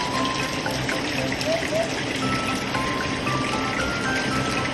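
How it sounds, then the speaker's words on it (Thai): Water gushing steadily into the filter chamber of a villa fish pond after the drain pipe is opened, a continuous broadband rush that stays constant throughout. "ก็เดี๋ยวน้ำก็จะถูกดันเข้ามาห้อง กรอง"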